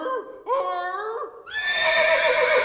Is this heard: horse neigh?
yes